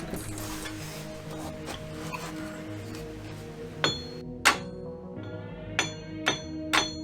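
A steady mechanical hum gives way to several sharp, ringing metal hammer blows on a Jeep JKU rear axle shaft, spaced irregularly and striking close by.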